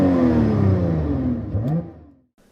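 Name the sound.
Lotus Evora GT engine revving when throttle is tapped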